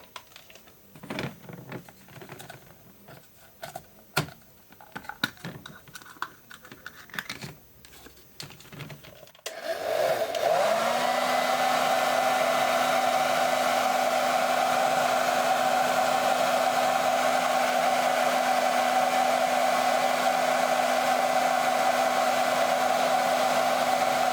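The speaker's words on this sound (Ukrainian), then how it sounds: "Для цього використовую звичайний фен для сушки волосся." Several seconds of irregular tapping and clicking, then a household hair dryer switches on and blows with a steady, loud whirring hum until the end, heating a wax mixture for a finish coating.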